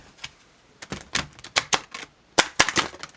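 Large Starseed tarot cards being shuffled by hand in a series of sharp, crisp riffling bursts, close and fairly loud with short pauses between them.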